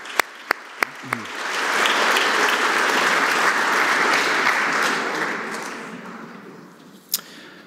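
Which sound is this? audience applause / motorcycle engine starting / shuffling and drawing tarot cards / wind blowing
audience applause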